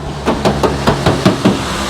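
Knuckle knocks on the body of a raised four-door pickup truck, six evenly spaced hollow taps in a steady rhythm, close and fairly loud over a faint background hum.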